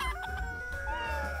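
Rooster crowing at dawn in the video game Palworld, a loud, drawn-out cock-a-doodle-doo with clucking fowl around it, heard alone over steady game ambience.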